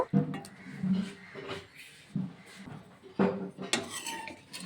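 A pot of potato and fish curry is lifted off a gas stove, with close metallic clanks, scrapes and knocks of cookware and utensils coming in irregular bursts and no talk.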